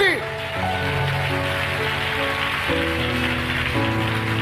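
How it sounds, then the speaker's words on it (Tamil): A church congregation claps their hands in a dense, continuous patter that sounds almost like rain. Sustained music tones sound beneath it throughout. "நல்ல கைகளை தட்டி"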